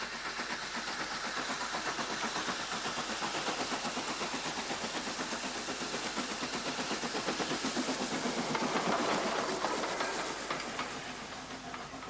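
An old steam train on the Bluebell Railway, a private heritage line in England, rolls along with a continuous rumble and rhythmic clickety-clack of carriages, steady and fairly close, swelling slightly near the end before easing off.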